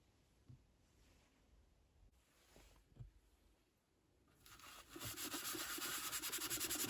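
A toy GI Joe Action Man space capsule is scrubbed with cleaning powder on a wet cloth or sponge. Faint rubbing at first builds into loud, steady, close abrasive scrubbing.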